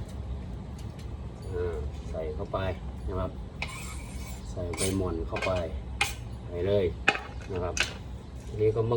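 A knife chops mon leaves on a cutting board in irregular taps and clicks, close up, while someone talks over the work.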